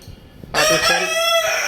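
A rooster among caged European Silkie chickens crows loudly and close by in one long, drawn-out call that starts abruptly after a moment of faint background noise.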